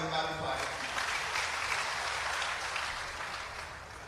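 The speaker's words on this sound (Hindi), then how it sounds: "ताली बजाकर उनका भी स्वागत।" A crowd at a statue unveiling ceremony for a former chief minister applauds to welcome a political leader, a broad, fairly faint wash of clapping that slowly fades out.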